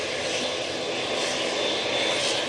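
An airplane departing Manchester Airport gives a loud, continuous roar of jet engine thrust. The noise stays broadband and steady throughout, with no voices over it.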